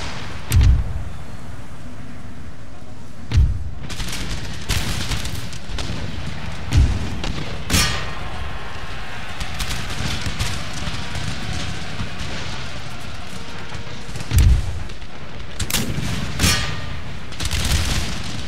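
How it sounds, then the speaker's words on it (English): Mortar artillery fire in the video game Empire Total War, with heavy booms landing every few seconds over a constant low battlefield rumble and crackling musket fire. "Wow, those mortars are an absolute menace."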